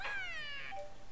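A cat meows in the Tales of Xillia 2 video game, a single drawn-out, falling meow followed by a short softer trailing note, clear and fairly quiet.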